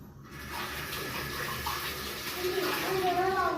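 Water runs from a tap into a sink in a steady rushing stream, fairly close, with a brief voice and some tonal sounds over it toward the end.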